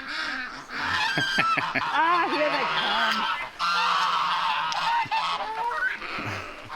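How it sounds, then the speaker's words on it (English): Many geese honk loudly and continuously, a noisy overlapping chorus close by, with a brief voice speaking early on. "I think the geese are gonna give our position away."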